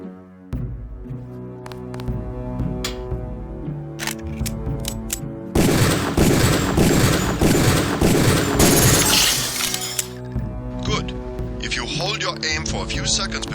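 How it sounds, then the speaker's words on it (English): Pistol shots fired at training targets in the PC game Deus Ex, several sharp reports scattered over game music and ambience, with a dense burst of noise in the middle. "Release the first target and take a few shots with one of the pistols until it is destroyed."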